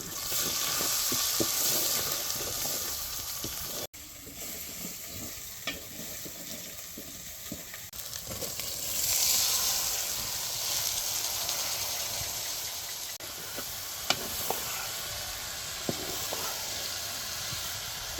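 Drumstick flower bhaji with onion and spices sizzling steadily in a pan, a continuous close frying hiss with occasional stirring clicks and scrapes.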